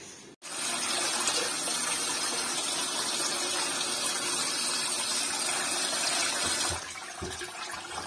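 Fish being washed under a running tap, a steady loud gush of water pouring for several seconds before tapering off, with no talking.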